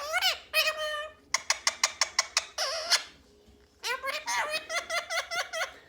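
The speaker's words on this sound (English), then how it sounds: "Allie, bird's calling you." A bird gives rapid repeated chirping calls in bursts, close and loud, with a short quiet gap between the two runs.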